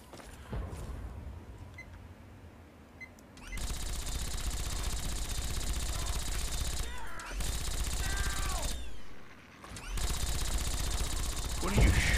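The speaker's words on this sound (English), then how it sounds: "What are you shooting at?" Sustained automatic gunfire in Fallout 3, loud dense bursts lasting several seconds with brief pauses between volleys, set against a faint ambient background.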